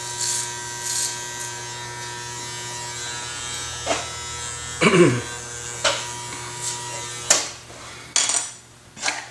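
Electric hair clippers cutting a flat top haircut give off a steady close buzzing hum, broken by short scraping and tapping strokes as the blade moves through the hair.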